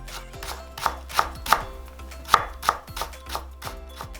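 A knife chops onion and carrot into thin julienne strips on a cutting board, about ten crisp, evenly spaced thuds in a quick steady rhythm, close and clear.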